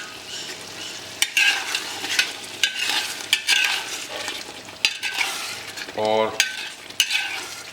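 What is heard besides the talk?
masala with poppy seed paste roasting in ghee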